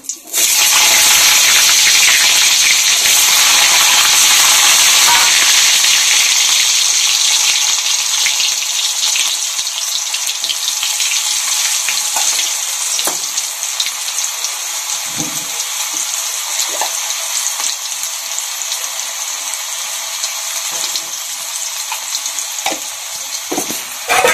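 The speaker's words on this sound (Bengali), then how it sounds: "এখন এর মধ্যে আলুগুলোকে ভেজে নিব একবারে।" Potatoes tossed into hot oil with dried red chili and asafoetida, a loud bright sizzle erupting at once and holding steady, with occasional stirring scrapes as it gradually eases.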